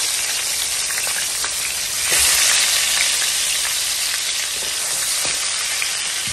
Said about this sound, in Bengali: তো ফার্স্ট আমি এটা ভাজা নিব সুন্দর করে।